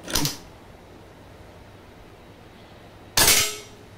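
Two sharp air rifle shots from a pre-charged pneumatic (PRF) rifle, about three seconds apart, each a loud crisp crack with a brief ringing tail, and quiet between them.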